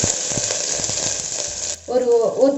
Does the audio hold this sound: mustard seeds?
yes